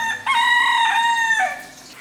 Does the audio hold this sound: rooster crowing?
yes